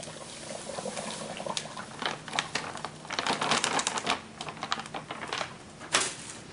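Sugar poured into a home brewing vessel, a grainy clattering rush with rattling bursts that swell and fade, close by and without speech.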